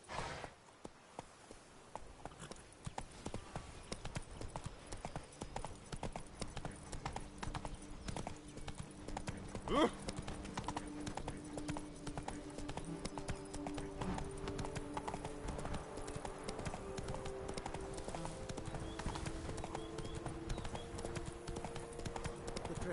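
Roach the horse galloping in The Witcher 3, hooves clip-clopping in a quick continuous rhythm close by, with a brief louder thump partway through, no voices.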